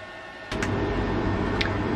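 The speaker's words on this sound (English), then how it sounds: "use a fairly low power heat gun just to get some heat on here, drive things off a bit" A low-power heat gun drying a chip after vinegar cleaning starts up with a steady low whooshing hum, joined by a couple of faint clicks, close and moderate.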